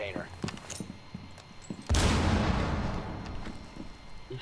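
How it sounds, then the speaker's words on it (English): Gunfire in the tactical shooter Rainbow Six Siege, starting as scattered faint shots under talk, then a sudden loud, sustained burst of dense firing from about two seconds on. "He's shooting already."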